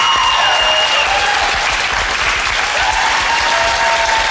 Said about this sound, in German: Lass sie ruhig ein bisschen klatschen.